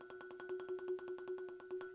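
Rapid two-mallet roll on a keyboard percussion bar struck directly over the string, giving a thinner tone; steady, evenly spaced strokes on one sustained pitch, close and fairly soft, with no voices.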